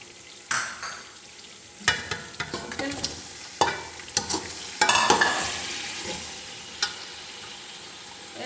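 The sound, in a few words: potatoes and onions being fried and stirred in a pan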